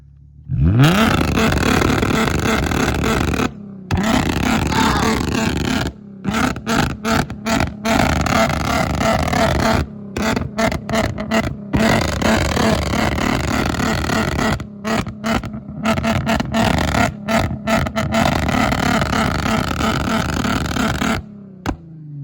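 A tuned Infiniti G35's engine revs repeatedly in sharp bursts, with brief silent gaps between throttle blips, close and dominant throughout.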